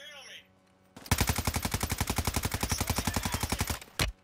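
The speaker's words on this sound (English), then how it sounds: "Suppressing fire. Suppressing fire. Suppressing fire." Sustained automatic gunfire in the Warzone video game, a rapid even burst of about three seconds from a nearby weapon, with a single shot after it and a brief voice before it begins.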